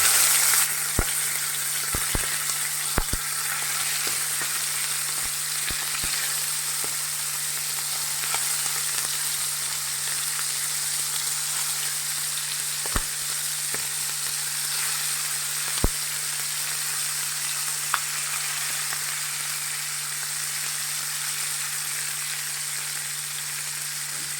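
Stuffed masala squids frying in hot oil in a pan, a steady loud sizzle running throughout with occasional sharp pops and crackles, no talking.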